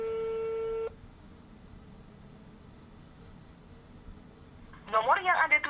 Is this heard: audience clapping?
no